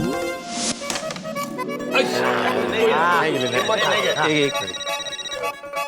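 A phone rings in a comedy show, playing a melodic ringtone loudly and continuously for several seconds, with voice-like tones mixed in and a few taps at the start.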